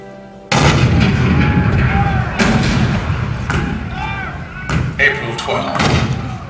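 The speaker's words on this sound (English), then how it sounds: "The cannon spoke for war, bitter, violent, and devastating." Cannon fire in a staged Fort Sumter battle scene at a Magic Kingdom presidential show: several heavy booms and sharp blasts, loud and close, with a rumbling continuous barrage and voices beneath.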